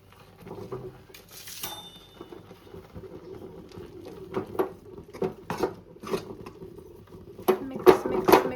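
Flour is mixed by hand in a bowl, giving soft dry pattering and scraping taps that come in irregular clusters and grow busier toward the end, near and fairly quiet.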